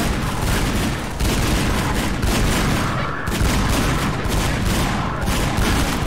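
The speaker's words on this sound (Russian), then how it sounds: "Ой-ой-ой, я слышу выстрелы эти." Dense, continuous gunfire with overlapping bursts and booms, loud and sustained throughout with brief lulls, a heavy firefight in Garry's Mod.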